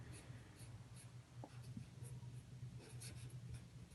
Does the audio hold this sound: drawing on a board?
yes